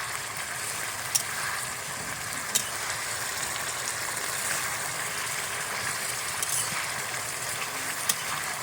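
Chicken curry sizzles steadily in oil in a pot, with occasional sharp scrapes of a spoon stirring through the meat; close and continuous with no voices.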